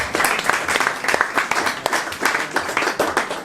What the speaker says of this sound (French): on peut les applaudir peut-être